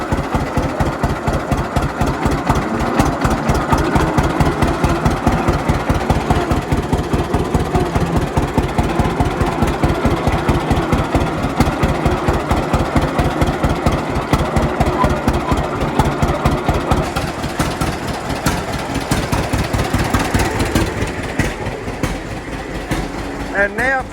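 A tractor engine chugs steadily with a fast, regular thumping rhythm, loud and close, before slowing and easing off near the end.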